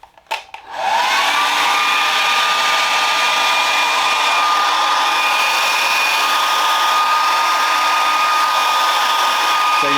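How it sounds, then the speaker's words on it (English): A hair dryer clicks on and blows steadily at full power, a loud continuous whooshing whine that holds without break to the end. "All right, hairdryer first."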